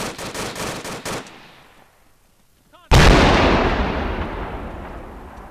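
Rapid gunfire crackles in quick bursts, then fades to near quiet before a grenade explosion bursts out loud and close with a long decaying roar, in an Arma 3 firefight.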